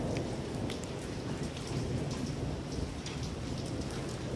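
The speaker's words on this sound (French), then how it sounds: "C'était même pas prévu d'avoir un orage aussi puissant." A powerful summer thunderstorm pours heavy rain down steadily, a dense, loud hiss of rain on surfaces with faint rumbles of thunder beneath, and no voices.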